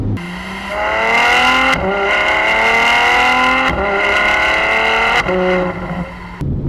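A Ferrari F12 Berlinetta's engine revs hard through repeated rising pulls, its loud exhaust snarling up and dropping between dual-clutch gear changes.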